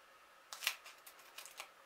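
Scissors snip a washi-taped paper card in a few quick, quiet cuts close by, with a short run of light rustling clips in a nearly silent room.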